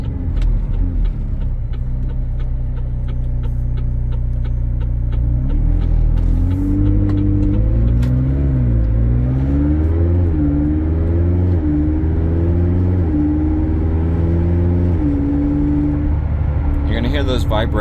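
A 2020 McLaren 600LT engine drones heavily from inside the car, revving up and down through a series of quick gear shifts with rhythmic ticking early on and a brief burst of noise near the end, loud and without talk.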